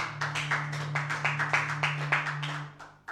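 A church congregation clapping in unison, a run of about fifteen steady rhythmic claps over a low sustained hum, moderately close, with no talk.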